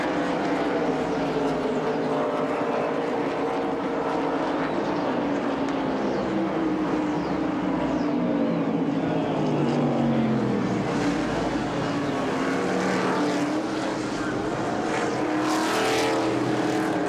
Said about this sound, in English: Phil Parsons attempting to hold his own against perhaps better performing cars